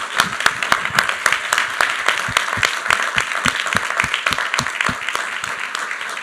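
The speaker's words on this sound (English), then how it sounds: "Let's offer a round of applause for Dr. Johnson." Sustained applause from an audience at a university president's lecture series event on faith and human flourishing, with individual hand claps distinctly audible throughout the crowd and steady, moderately loud sound for over six seconds.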